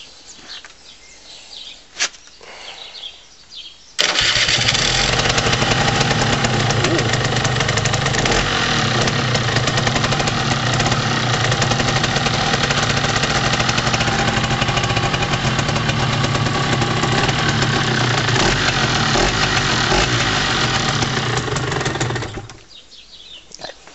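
A small Minarelli AM5 moped engine sputters to life after a few quiet seconds, then idles steadily and loudly with a buzzing, knocking rhythm before cutting off.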